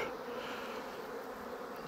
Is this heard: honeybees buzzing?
yes